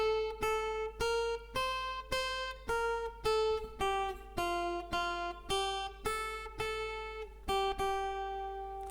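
A guitar plays the opening line of Ode to Joy fingerstyle, about a dozen clear plucked single notes in a steady rhythm, each ringing briefly before the next, no voices.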